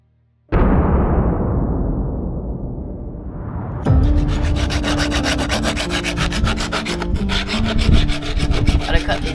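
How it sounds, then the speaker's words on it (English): A dull chainsaw cuts through mangrove wood, starting with a harsh rasping grind and then settling into a loud, steady engine drone with a gritty cutting texture. "It is a very dull chainsaw."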